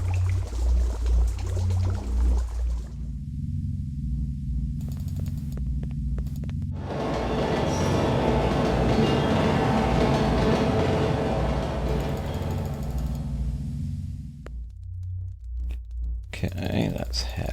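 A subway train in the Blade Runner PC game, a deep sustained rumble and whoosh that swells loudly for several seconds before fading, with lower room tone on either side and no voices.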